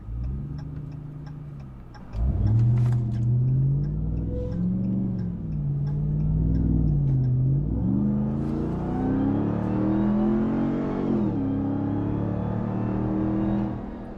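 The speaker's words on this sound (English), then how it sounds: "One thing that's always present is that supercharger whine" A supercharged 2021 Ram TRX pickup engine revs up and accelerates hard onto a four-lane highway with a rising supercharger whine and deep rumble, shifting through gears, with faint ticking early on.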